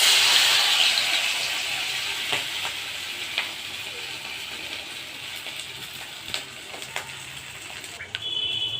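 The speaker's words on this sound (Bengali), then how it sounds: "এতে এইভাবে ডুবিয়ে এবার তেলে ছাড়বো।" Egg and cornflour battered fish roe cutlets frying in hot oil, a loud, steady close-up sizzle and hiss that eases slightly over time, with a few faint clicks and taps and no talking.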